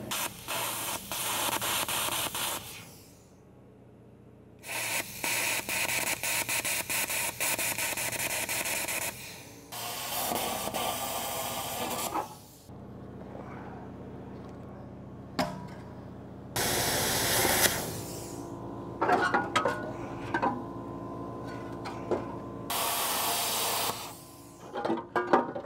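Cutting off a truck muffler during a bed swap and frame repair: a series of loud, harsh hissing bursts, each lasting a few seconds, separated by short quiet gaps as the cut stops and restarts.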